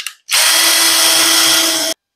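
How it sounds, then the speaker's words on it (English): A power drill runs steadily for about a second and a half, boring a hole through the center of a wooden spindle: a loud, close, even whine that starts and stops abruptly. "drill a hole right in the center of your spindle"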